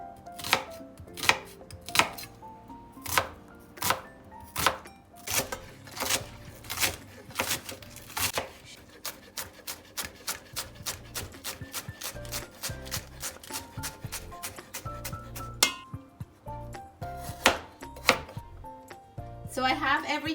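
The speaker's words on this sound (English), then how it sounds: "Time to chop these up." Green onion, onion and shaved carrots chopped on a cutting board for Guyanese crab soup, a long run of close, rapid knife chops in an uneven rhythm, sometimes quickening into fast bursts.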